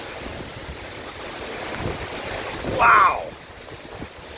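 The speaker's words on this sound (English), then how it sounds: "This is the strongest wind gust we've seen." Strong wind gusts during a severe thunderstorm in Virginia Beach roar and buffet the microphone, swelling into a louder rush near the end, while a person briefly exclaims.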